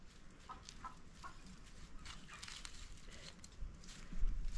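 Chickens cluck faintly in the late evening, a few soft short calls scattered over a quiet background, with some nearer rustling and thumps at the end.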